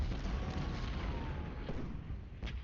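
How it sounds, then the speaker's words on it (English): Cannons fire on ironclad warships in the Civil War strategy game Ultimate General Civil War, with a steady, dense rumble of battle noise and faint booms running throughout. "we're gonna open fire on these ironclads because we need to destroy them"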